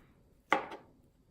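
A knife cuts through a cooked steak in one short, crisp scrape lasting about a quarter second, close and clear against near silence.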